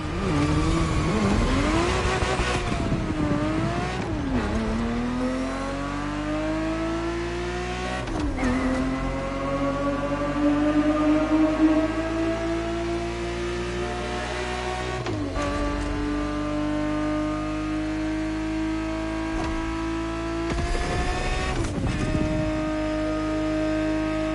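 A Ferrari 365 GTB4 engine in The Crew Motorfest racing game revs hard through repeated gear changes, pitch climbing then dropping at each shift, loud and continuous over roughly twenty seconds.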